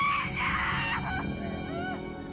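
Dramatized screams of people trapped inside sealed coffins: shrill, wavering wails that rise and fall loudly for a couple of seconds over a dark, sustained low drone.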